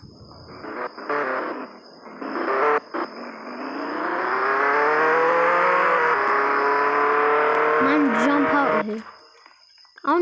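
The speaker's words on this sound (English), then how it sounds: "Spawn a car." A car engine in Roblox Jailbreak revs up and holds a steady, rising whine for several seconds before cutting off, loud and close, with brief voices at the start and a sliding voice-like tone near the end.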